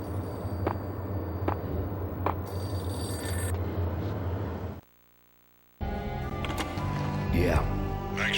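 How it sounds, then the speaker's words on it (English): A payphone rings in the Max Payne video game on Xbox with a few evenly spaced bell-like rings, followed by a brief dropout to silence and then game sound with a voice. "payphone started to ring."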